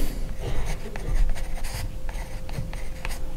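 Scratchy strokes of writing on unprimed canvas, a close series of irregular rasping scrapes and taps with no talk.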